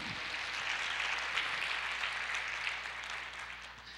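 A church congregation claps for the Lord during a Portuguese-language sermon, a soft, distant wash of applause that holds steady and fades slightly toward the end.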